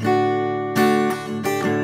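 Acoustic guitar strummed and ringing, captured by a mid-side stereo microphone pair; sustained chords with fresh strums near the middle and toward the end, close and full, with no talking.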